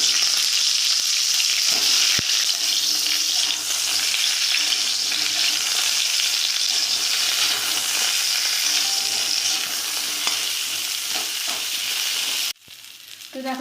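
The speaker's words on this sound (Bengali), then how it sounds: "এবার আমি ভাপানো ফুলকপিগুলো ভেজে নেব" Steamed cauliflower pieces crackle and sizzle steadily in hot white oil in a kadai, close and continuous, with a brief utensil knock early on and the frying cutting off near the end.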